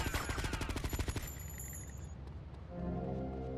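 Rapid bursts of gunfire in the video game GTA Vice City, a dense run of loud shots in the first second and a half, then a fading rumble and a steady low game background.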